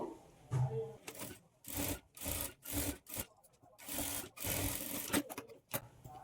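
A sewing machine stitches a half-inch folded waistband on a churidar pant, running in several short bursts with brief pauses between, a close, rhythmic mechanical whir.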